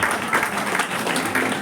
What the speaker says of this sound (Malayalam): നിറഞ്ഞ കയ്യടി നൽകി പ്രോത്സാഹിപ്പിക്കുക.